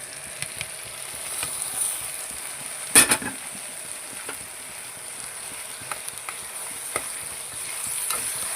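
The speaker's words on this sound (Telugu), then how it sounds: "టమాటా ముక్కలన్నీ కలుపుకోవాలి కాసేపు పచ్చి వాసన పోయేదాకా కలుపుకోవాలి" Tomato pieces fry and get stirred in a pan, giving a steady soft sizzle throughout with a few sharper scrapes of the spoon, one louder clatter near the middle, and no talking.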